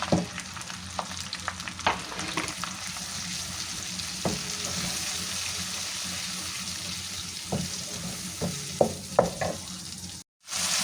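Tomato paste masala sizzles and fries in a pan, a steady hiss broken by scraping stirs and clinks of a spoon, close and moderately loud, with a brief cut near the end and no talking.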